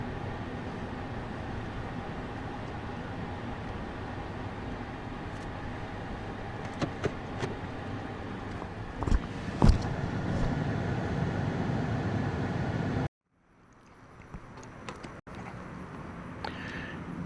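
A car drives along a road with a steady engine and tyre rumble and a few knocks, then pulls over to park, the noise cutting off abruptly before quieter ambience returns.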